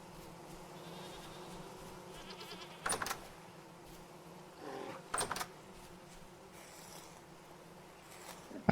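Goats bleat in a video game, a couple of short nasal cries standing out over a quiet buzzing ambient background, with no talking.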